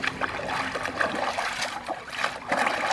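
A dish being rinsed under running water after washing with homemade dishwashing liquid soap, giving a steady close trickle and splashing with small irregular splatters, and no voices.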